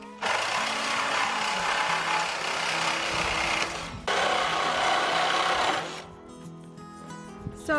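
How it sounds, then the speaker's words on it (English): A battery-powered reciprocating saw cuts through a steel cow panel, a loud, close, harsh buzzing rasp in two bursts broken by a brief pause, then winding down. "Battery-powered sawzall, which I'm using to cut this cow panel."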